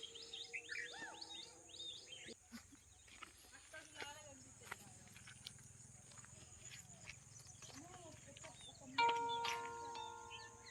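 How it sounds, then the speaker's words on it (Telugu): Sparrows chirp in quick high bursts beside a rice paddy in an open field, most busy early on, while people talk nearby throughout. "పిచ్చుకల సౌండ్ ఎంత బాగా అరుస్తున్నాయి కదా,"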